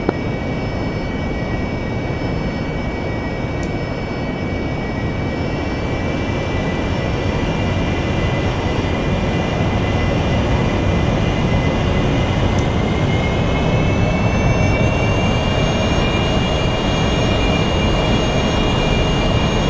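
Jet aircraft engine roars steadily at high power during a takeoff roll in the DCS flight simulator, a loud continuous rushing drone with rising whine tones and no talking.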